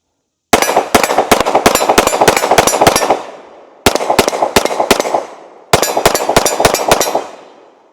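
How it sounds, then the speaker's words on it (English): A 9mm pistol fitted with a Radian Ramjet and a 15 pound spring fires 115 grain rounds in three rapid strings of close, loud, sharp shots, each string ringing out into a brief echo before the next. "you can start shooting maybe 115 grain through it like I'm doing now"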